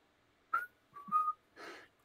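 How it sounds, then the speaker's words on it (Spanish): Three short whistled notes, a brief rising tone, a slightly longer wavering one, then a breathy airy whistle, close and clear with silence between. "los silbidos eh, siguen sonando"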